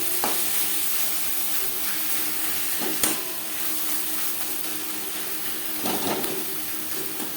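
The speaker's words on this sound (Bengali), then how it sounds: "পেঁয়াজের সাথে আদা ও কাঁচা লঙ্কা বাটা বেশ ভালো করে মিক্স করে দেব" Onion with ginger and green chili paste sizzles steadily in a pan as it is stirred for a fish roe curry, with occasional spatula scrapes and taps up close.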